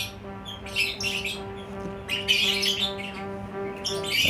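A lovebird squawks repeatedly during breathing training, with harsh, loud bursts that come in irregular clusters. Steady tonal hum runs continuously underneath.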